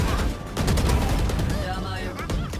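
Gunfire in a competitive multiplayer shooter: a dense, loud burst of overlapping rapid shots and echoes that fills the short moment.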